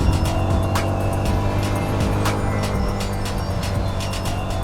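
CFmoto 250SR motorcycle accelerating on a rough mountain road, a steady close engine drone with repeated sharp bursts and rising pitch, fairly loud throughout.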